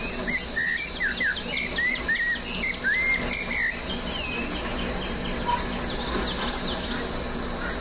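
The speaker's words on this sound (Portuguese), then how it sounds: "É o canto do sabiá laranjeira Turdus rufiventris, uma das vozes mais emblemáticas da paisagem sonora brasileira" Clear whistled phrases of a rufous-bellied thrush (Turdus rufiventris) singing in the Amazon rainforest rise over a steady, dense chorus of crickets and other insects, with other birds chirping faintly in the background.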